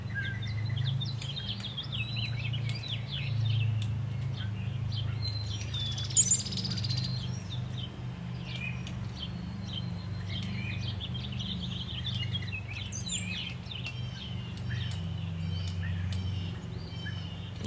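Wild birds at a feeder, including grackles, starlings, cowbirds and a mourning dove, giving scattered chirps and short calls over a constant low hum, fairly faint and distant with one brief louder burst.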